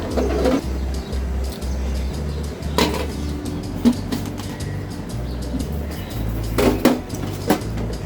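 A metal spoon stirs spices in a pot of beef nihari, giving repeated clinks and scrapes against the pot in an irregular rhythm over a low background hum.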